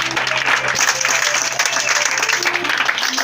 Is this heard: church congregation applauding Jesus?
yes